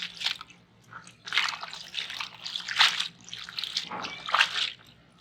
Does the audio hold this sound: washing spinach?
yes